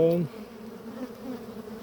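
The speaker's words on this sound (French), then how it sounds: "Là, je suis entouré d'abeilles." A swarm of honeybees buzzes steadily around a beekeeper working the hives while caging queens, a dense close hum that persists throughout without talk.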